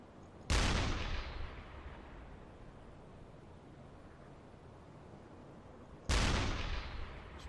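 Two heavy gunfire impacts striking a ship in the submarine game UBOAT, each a sudden loud boom that rolls and fades into a rumbling tail, about five seconds apart.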